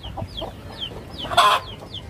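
Chickens at a home coop clucking in short repeated calls, near and fairly loud, with one brief louder squawk in the middle and no talking over them.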